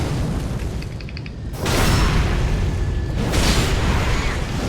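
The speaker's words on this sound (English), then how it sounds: "they can just keep on creating these fire orbs, which will just periodically fire fireballs at you" Fiery bursts from fire orbs in Dark Souls 3 hit in a couple of loud, dense whooshing booms after a quieter stretch with faint chiming tones, with no talking.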